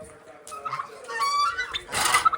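Ducks fed grain in a backyard pen give short nasal quacks and clucking calls close by, several bursts across a couple of seconds, with a man calling to them.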